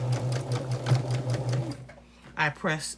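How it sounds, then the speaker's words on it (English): A sewing machine stitching quilt block units, a rapid steady mechanical whirr and needle chatter lasting nearly two seconds before stopping, then a person talks nearby. "I'm pressing each unit, and then I'm stitching after I press those units."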